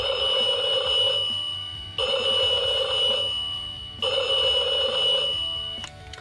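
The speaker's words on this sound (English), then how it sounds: "And you can select the normal alarm." A ringing bell alarm from a JCC T831 alarm clock sounds in three steady bursts of about two seconds each, loud and close, with a click at the end.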